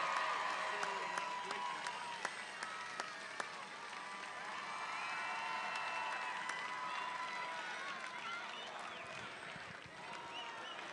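A large crowd at a Donald Trump campaign rally in Arizona cheers, whoops and applauds in a continuous distant roar, with scattered sharp claps and shouts rising above it.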